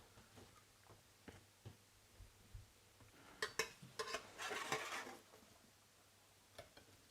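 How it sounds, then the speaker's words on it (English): Faint kitchen clinks and scrapes as lentil and bulgur chili non-carne and oven chips are plated, scattered light taps, then a short cluster of louder clattering dish and utensil sounds, no talking. "So, we're going to plate up."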